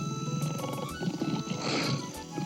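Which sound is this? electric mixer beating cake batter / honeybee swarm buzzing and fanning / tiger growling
tiger growling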